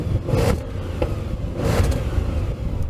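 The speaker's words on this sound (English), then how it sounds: "So first thing we're going to do, Jason, is do some revs. I'm going to rev up mine." An Audi S8 engine is revved in bursts: two rising surges that swell and fall back toward idle, heard close and fairly loud.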